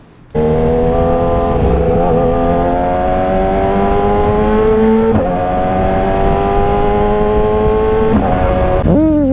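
A BMW S1000RR motorcycle engine revs and pulls through rising gears, loud and close, with sharp shifts between long climbing whines and a final throttle blip.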